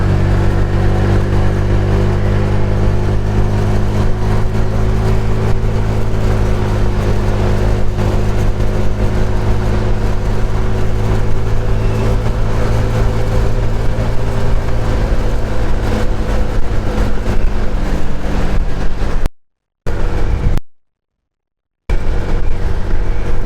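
A Honda Vario 125 scooter engine drones steadily and loudly while riding on a fairly smooth road after a potholed stretch, with sustained revving and brief dropouts near the end.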